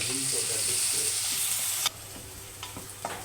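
Crushed ginger, garlic, coriander and chilli paste frying in oil, a loud steady hiss that drops suddenly, then lighter sizzling with a few utensil taps and faint background voices.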